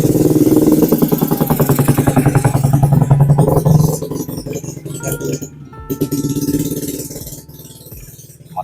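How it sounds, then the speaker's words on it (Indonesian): A motorcycle passes close by, its engine rumble loud and steady for a few seconds before fading away, with light clinking and rattling alongside. "Motor lewat."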